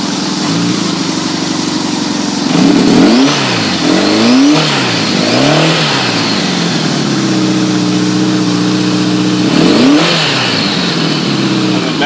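A Honda GL1200 motorcycle engine running on choke, revving up and down in several uneven surges over a steady idle, loud and close with no talk.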